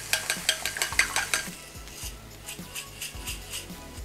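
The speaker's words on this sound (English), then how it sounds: "we're gonna beat" Three eggs being beaten in a bowl with a utensil, a quick steady run of clinking whisk strokes that slows and softens, with a faint sizzle of vegetables cooking in a pan behind.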